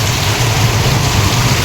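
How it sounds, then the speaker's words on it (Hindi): Rain pours down steadily in a storm over a village, loud and close, a dense unbroken hiss with a low rumble beneath it. "अखन बारिश छूटल है नहीं, मतलब कम भेलै"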